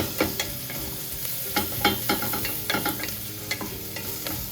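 Garlic and onions sizzling in a frying pan while being stirred, with a steady hiss of frying and repeated scraping strokes of a utensil against the pan, close and clear with no talk.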